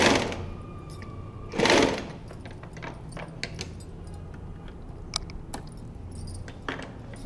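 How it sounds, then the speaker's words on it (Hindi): A sewing machine stitches a reverse seam on a pillow cover in a couple of short, quiet runs, with soft fabric handling and small clicks between them. "एक सेंटीमीटर पीछे तक आके रिवर्स सीम कर देंगे, सिलाई को वापस उसी सिलाई पर ले जाएंगे"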